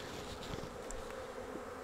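Honey bees at a Flow Hive Classic frame make a faint, steady buzz that holds for the whole clip with no one talking.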